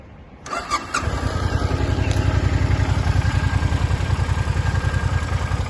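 A Suzuki Intruder 400 motorcycle engine starts, then settles into a steady, even idle with a regular low pulsing thump, close and fairly loud.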